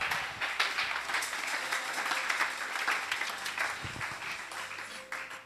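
Church congregation applauding during a sermon, a moderately loud and fairly steady patter of many hands that thins slightly near the end.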